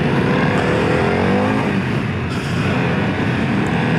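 A 2024 Harley-Davidson CVO Pan America motorcycle engine roars up close at a dealership demo ride, a loud, continuous drone with a rising and falling pitch, with no talk.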